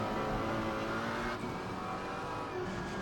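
A McLaren 570S GT4 race car in Assetto Corsa Competizione drones at steady high revs, a loud buzzing engine note with a brief gear change partway through.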